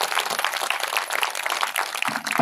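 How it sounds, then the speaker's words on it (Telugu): A church congregation at a gospel meeting in Kanchipadu claps together to praise God, a dense, sustained wash of many hands filling the room steadily throughout. "ఒకసారి చప్పట్లు కొట్టి దేవుని స్తుతిద్దాం."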